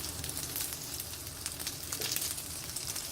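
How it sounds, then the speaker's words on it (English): Gyoza fry in a hot pan, giving a steady, dense sizzle with faint crackles and pops, close and continuous, alone without talk. "So just let them sizzle for a little bit here."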